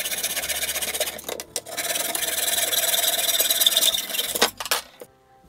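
Aluminum angle stock is cut into stakes with a power saw or grinder. A loud, steady rasping whine runs for several seconds with a couple of brief breaks, then cuts off abruptly.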